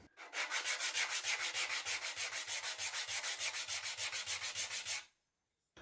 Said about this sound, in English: Always a good idea to do a little bit of sanding before you glue, especially on plywood that's been sitting around for a long time.